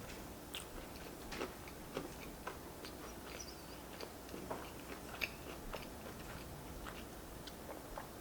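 Crunchy paleo chicken pesto caprese pizza being chewed up close, a faint series of crisp bites and crunches spaced irregularly over quiet room tone.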